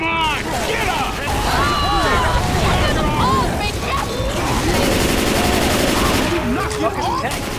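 Dense, near-continuous gunfire in the zombie shooter game Left 4 Dead 2, with rapid overlapping shots and clatter running the whole time, while several voices talk and shout over the action.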